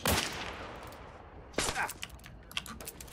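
Gunfire in Hunt: Showdown comes as a sharp burst at the start, then a second loud crack about halfway through and a few scattered shots after it, over a steady game background.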